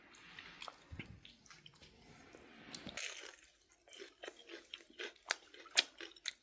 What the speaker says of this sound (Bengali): সন্ধ্যার টাইমে গরম গরম এই বাসায় বানিয়ে এই বেগুনি এবং পাকোড়া খাচ্ছি